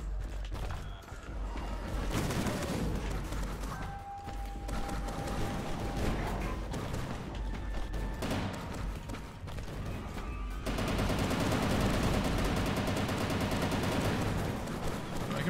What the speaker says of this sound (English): He tried shooting.